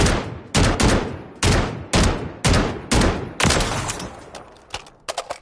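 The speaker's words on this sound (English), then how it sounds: "The Riveter. Fast firing shotgun." The Riveter, a fast-firing shotgun in Call of Duty MW3, booms in about eight heavy, evenly spaced blasts, loud and close, followed by a quick cluster of lighter shots.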